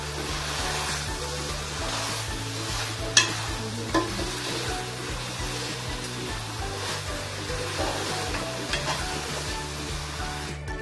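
Mushrooms sauté in a pan for a mushroom biryani, giving a continuous sizzle with occasional stirring scrapes and a couple of sharp utensil knocks over a steady low hum. No one talks.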